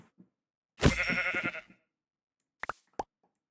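A single video game sheep bleats once, loud and close, followed by a few short soft clicks.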